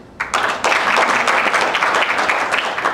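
An audience at a speech breaks into sudden, loud applause, a dense burst of clapping that holds steady for a few seconds.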